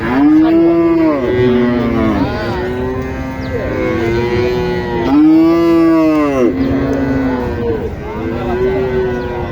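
Cattle low repeatedly at a busy livestock market, with several loud, drawn-out moos rising and falling one after another close by, and little else audible around them.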